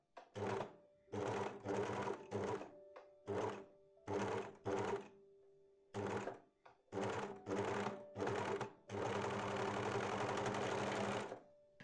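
An overlock machine overcasts the inside corner of a fabric edge, running in about ten loud, close bursts of rapid stitching separated by short pauses, with a longer continuous run at the end.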